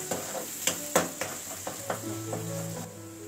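Chopped onion and green chili sizzling in a pan for Maggi, stirred with a spatula that makes several distinct scraping knocks over a continuous quieter fry.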